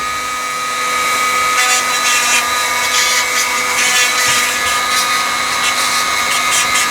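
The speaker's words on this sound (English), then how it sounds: "Right, so got the Dremel set up." A Dremel rotary tool cleans parts of a seized Record clamp with a loud, continuous high-pitched whine close by. Faint scraping bursts come and go as the bit touches the metal.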